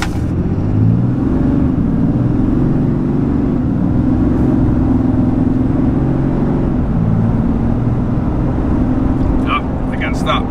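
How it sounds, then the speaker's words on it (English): A RAM HD High Output Cummins diesel pickup engine roars steadily at wide-open throttle, a loud continuous low rumble throughout with someone talking over it. "I'm gonna go ahead and do a quick wide open throttle"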